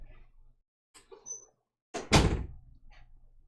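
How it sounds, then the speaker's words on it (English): A door is pushed shut indoors with a single solid thunk, preceded by faint shuffling and light knocks. "Close my door real quickly."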